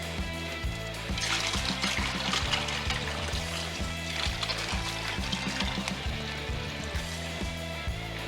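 Leftover pork marinade liquid is poured over a pork butt, giving a steady trickle and splash beneath continuous background music.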